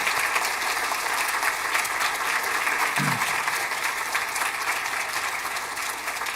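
Congregation applause welcoming a pastor's family at a Korean church retirement service: steady, sustained clapping filling the hall at an even level throughout.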